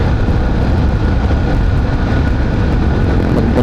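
Steady, loud engine and road roar from a motorcycle riding on a provincial road in the Bicol region, a continuous broadband rush without breaks or voices.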